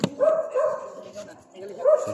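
A pet dog yelps and whines in short, strained bursts during a rabies vaccination in Panukulan, Quezon, close and fairly loud, with people talking around it.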